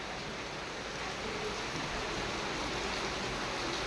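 Heavy rain with water running off into a drain, a dense, even hiss of rainfall and flowing water, steady and close, with no voices.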